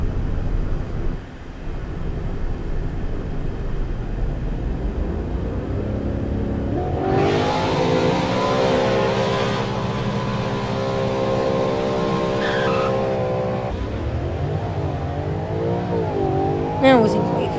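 Engine of an old-body-style Ford Mustang in a Roblox racing game, a steady drone that climbs through rising gear pulls from about seven seconds, with a long held high rev before dropping back. Talk runs over it.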